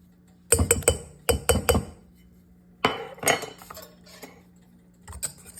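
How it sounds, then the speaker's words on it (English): A whisk beats milk and flour together in a bowl, making quick bursts of bright metallic clinking and scraping in several rhythmic flurries with short pauses between them, up close and alone. "We got that nice and whisked together."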